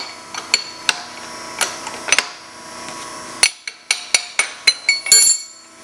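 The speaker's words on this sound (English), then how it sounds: "We loosen up the clamp." Metallic clanks and ticks from loosening the clamp on a radius bender used for destructive weld testing, a series of sharp, close knocks and clinks in irregular rhythm, bunching faster toward the end, with no talk.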